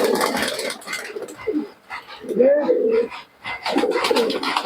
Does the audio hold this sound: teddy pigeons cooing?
yes